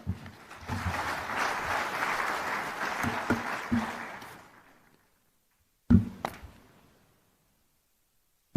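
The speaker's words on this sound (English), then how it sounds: "One more round of applause for Colin Howell." An audience at a live event in Nairobi claps for about four seconds, the applause fading out, followed by a brief burst of a few more claps and then silence.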